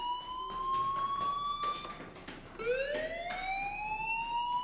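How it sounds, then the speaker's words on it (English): A fire alarm sounds in the video game Life Is Strange, a loud electronic siren that rises in pitch, breaks off briefly, then climbs again against quiet ambient noise. "do you hear that fire alarm?"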